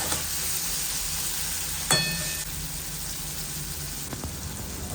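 Nigella seeds, green chilli, onion and tomato fry in hot oil with a steady, loud close sizzle. A sharp clink of a utensil and a few stirring scrapes cut through it, with no speech.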